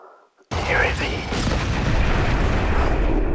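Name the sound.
spaceship exploding in the video game Rebel Galaxy Outlaw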